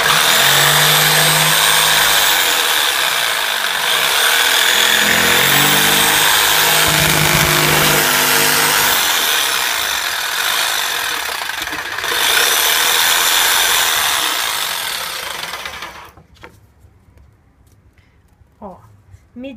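A power tool cuts a 6 mm MDF board, a loud steady whining rasp that runs for about sixteen seconds before stopping abruptly, with a few small knocks afterward.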